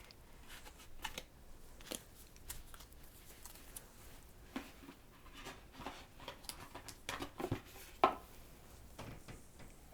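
An oracle card deck is shuffled and cards are drawn, giving soft, faint papery flicks and riffles in irregular bursts, close by with quiet handling noises between.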